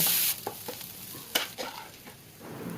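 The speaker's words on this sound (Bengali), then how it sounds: "এই তেলের মধ্যে আমি একটু বেশি করে পেঁয়াজ এবং কাঁচামরিচ নরম করে" Onions and green chilies soften in hot oil in a pan, with a steady sizzle under scraping and clattering stirring strokes.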